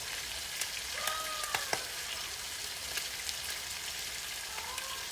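Water hits a hot pan of browning pork steak, setting off a steady, close sizzle with a few sharp pops and spits scattered through it.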